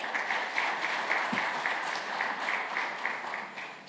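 A crowd at the QS Africa 2025 event applauds steadily, a dense even clatter of many hands that holds for a few seconds and starts to fade at the end.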